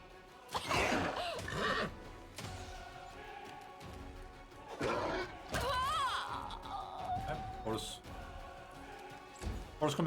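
A horse neighs amid in-game combat in Pathfinder: Wrath of the Righteous, with a rising whinny over clattering battle noise and occasional talk.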